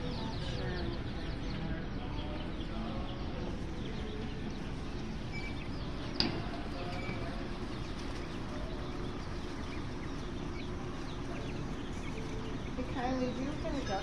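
Ducklings and chicks chirp and peep continuously at close range, a busy layered chatter of small birds with soft rustling beneath and a brief click partway through.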